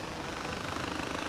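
Helicopter rotor noise from Far Cry 4, a steady dense broadband whir with a faint rhythmic chop, close and continuous throughout.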